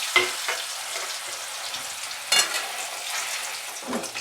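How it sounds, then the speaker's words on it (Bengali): Potatoes frying in a pan, a steady soft sizzle throughout with occasional louder crackles and stirring clatter, close and alone. "আমি অল্প আলু লাল করে একটু ভেজে নেব"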